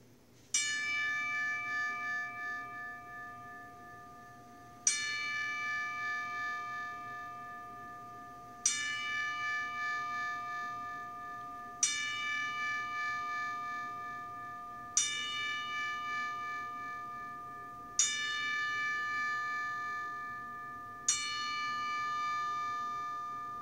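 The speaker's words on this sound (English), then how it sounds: "we need a 10 bell salute." A single bell tolls as a salute, seven evenly spaced ringing strikes about three to four seconds apart, each fading slowly into the next over a faint low hum.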